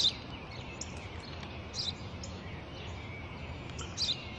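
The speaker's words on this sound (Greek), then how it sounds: "Ένα σπουργίτη." Brief high house sparrow chirps repeat a few times over a steady faint background hiss, spaced out and fairly distant.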